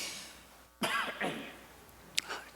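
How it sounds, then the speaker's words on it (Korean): A preacher at a New Year blessing service coughs, a quick pair of close, raspy coughs followed by a short throat-clearing, with no speech over them. "죄송해요, 제가 이렇게 순간 기침을 하는 것은 왜 그럴까?"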